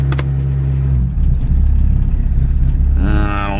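An engine with its spark advance not yet pulled runs with an uneven, stumbling beat, dropping and surging in loudness, then briefly rising in pitch near the end, close and loud with no voices.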